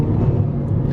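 A Volkswagen MK6 Jetta TSI engine fitted with a new IE intake drones steadily from inside the moving car, a dense low rumble that stays loud and even throughout with no speech.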